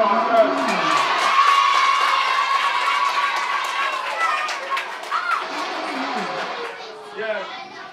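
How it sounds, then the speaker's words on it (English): Children cheer and shout in a lively crowd at a school reading challenge award event, a dense continuous burst of excited young voices close by. "Let's clap for ourselves."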